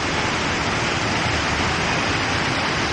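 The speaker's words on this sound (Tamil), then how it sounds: "தண்ணி எவ்வளோ ஃபோர்ஸாக வருது." A loud, constant roar of rushing water fills the scene, dense and unbroken, from a nearby waterfall near Munnar, India.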